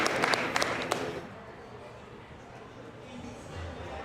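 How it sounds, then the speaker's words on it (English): An audience at the Rabble Rouser climbing event applauds the climbers in a short burst of clapping and crowd noise that fades after about a second, leaving quiet room ambience. "Let's give a round of applause for these guys."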